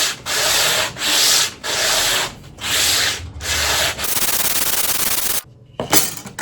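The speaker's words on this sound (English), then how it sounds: "just a matter of spending a little bit of time now just sanding away" Wood being sanded by hand during a guitar build with inlay work: a run of steady, rhythmic rasping strokes, close and fairly loud, then a longer continuous rub, a brief pause and a short final stroke.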